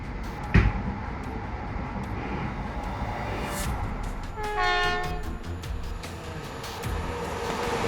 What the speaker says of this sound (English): a train came hurtling toward it at high speed